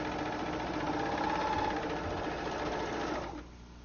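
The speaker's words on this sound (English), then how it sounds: "Place 2 layers of fabric under the presser foot and sew." An Elna serger stitches through two layers of fabric with a rapid, steady mechanical whirr that runs evenly and then drops off abruptly near the end, close and alone without speech.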